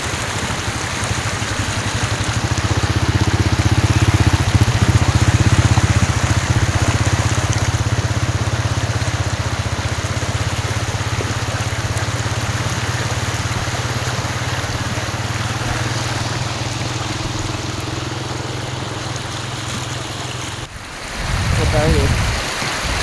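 Rainwater flowing across a washed-out rural road in Laos: a steady, loud broadband rush of water and rain with a low motor-like drone underneath, ending in a short, sharper burst.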